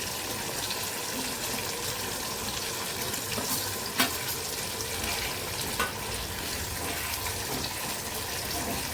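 Mango pieces for a spicy pickle slide into hot mustard oil with panch phoron, dried red chillies and a bay leaf, setting off a dense, continuous sizzle and splutter with a couple of sharp pops.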